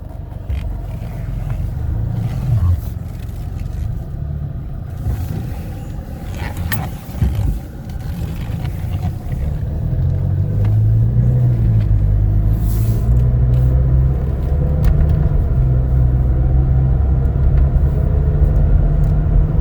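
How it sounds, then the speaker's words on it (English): Cabin of a 2016 Toyota Tacoma Double Cab pickup on a test drive, with a low, steady engine and road rumble that grows slightly heavier as it picks up speed. "we're all set, take it for a little test drive. Go ahead and put it in gear."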